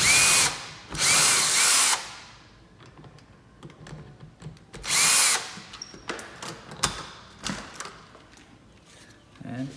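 A power drill backs two bolts out of an old deadbolt lock on a door, running in two loud whirring bursts followed by a third, separated by softer clicks and handling noise of the lock parts.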